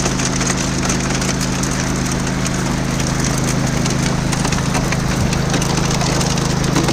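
A gold dredge motor runs steadily at about three-quarter throttle on a Southern Oregon river, a constant loud engine drone with strong low hum bands and no pauses or voices.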